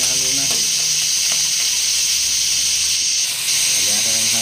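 Snails for ginataang suso with laing drop into a hot pan, giving a loud, steady sizzle and hiss that holds throughout, with faint stirring clatter underneath.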